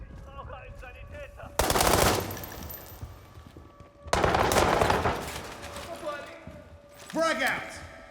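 MSBS-K rifle in the World War 3 video game firing in three loud automatic bursts, each a dense rattle of rapid shots, separated by short pauses, with no talk.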